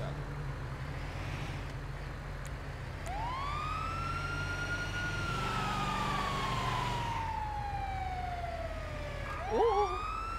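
A wailing ambulance siren in a GTA roleplay game sweeps up and slowly down in long rising and falling cycles over a steady engine rumble. It stays loud and close throughout, with a brief sharp burst near the end.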